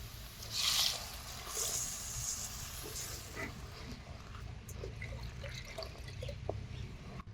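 Water splashes into a curry pot of moong dal punugulu curry for a few seconds, then fades to light trickles and faint kitchen clatter nearby.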